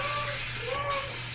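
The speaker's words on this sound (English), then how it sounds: "make sure you spray your baking dish, or it will stick" Coconut cooking spray is sprayed into a baking dish, a loud close continuous hiss with a short break near the end, over a low background hum.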